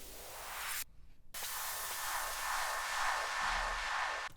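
White noise effect in a dark house EDM track, a steady broadband hiss that cuts out briefly near the start, then returns and sweeps on without tonal content.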